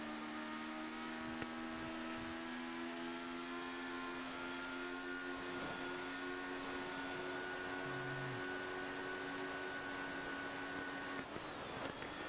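Race car engines drone steadily in the GRID Autosport racing game on Switch, a faint, sustained tonal whine with subtle pitch shifts and no clear passes or pauses.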